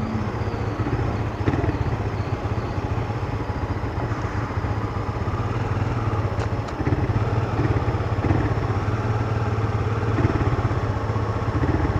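A motorcycle engine idles roughly with a steady low rumble and mechanical clatter, running continuously and fairly close; no clear stall is audible.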